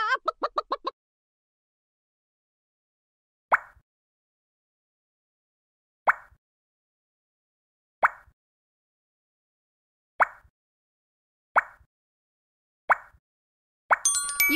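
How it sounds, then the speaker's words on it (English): A quick burst of chicken clucks from an iPhone shape builder puzzle game opens the clip. After a pause, a series of evenly spaced soft plops follows, and a brief chime comes in at the very end. "Chicken."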